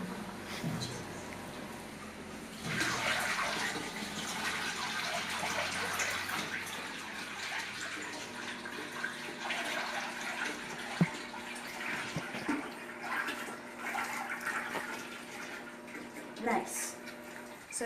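Water pours steadily into a cooking pot holding tamarind syrup and sugar, a continuous splashing stream that runs on for many seconds with occasional small drips.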